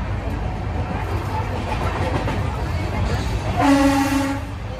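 Steady rumble and rattle fill the inside of the crowded, moving Howrah–Titlagarh Ispat Express passenger train, with a brief tonal horn-like blast near the end and voices in the background.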